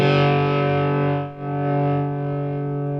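High-gain distorted electric guitar through a modded Masco ME-27 amp, loud sustained chords with a brief dip before ringing on.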